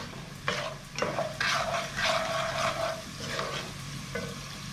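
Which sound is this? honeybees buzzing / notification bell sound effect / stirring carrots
stirring carrots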